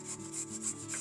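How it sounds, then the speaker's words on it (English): A carrot grated by hand on a grater for carrot cupcakes, making quick rhythmic scraping strokes, about four rasping passes close by in a quiet room. "So I'm going to grate the carrot."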